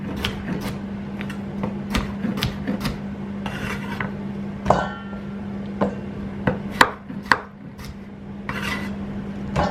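Knife chopping vegetables into big rustic chunks on a board, a run of sharp, irregular cuts with occasional heavier whacks, fairly close and steady over a constant low hum.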